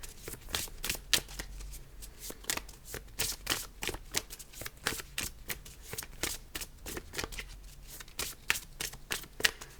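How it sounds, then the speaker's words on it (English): Playing cards being shuffled by hand, a rapid series of crisp riffling bursts repeating steadily throughout, close and fairly quiet, with no talking. "so I've shuffled the cards"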